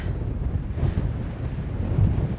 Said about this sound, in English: it's definitely windy on this side. It's a cold and biting wind.